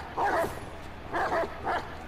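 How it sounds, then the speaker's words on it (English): Dogs barking somewhere in the open-world action game Watch Dogs 2: three short bursts of barking spaced about a second apart, moderately close and clear, with no one talking over them. "I can hear dogs. Where are they?"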